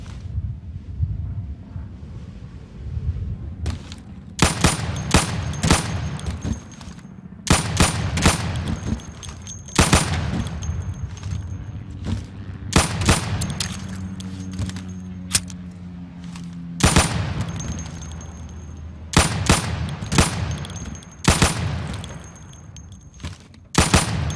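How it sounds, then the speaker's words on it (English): Sidearm pistol shots crack out at pop-up targets on a training range in the video game Insurgency, loud, close bursts of rapid shots separated by short pauses, with no speech. "So you can shoot accurately over 20 feet with your sidearm."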